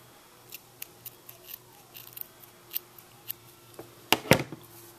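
Scissors snip off the yarn ends of a crocheted toddler boot piece, giving a few soft clicks and then two sharp, close cuts near the end.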